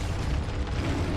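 Spell blasts from Hogwarts Legacy combat: a dense, loud burst of explosive magical impacts and crackling booms packed into about a second, with no talk.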